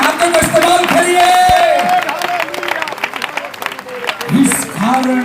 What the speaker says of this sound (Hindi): एक बार जोरदार ताली बजाकर हाथों को उठाते हुए अपने पवित्र हाथों का इस्तेमाल करिए।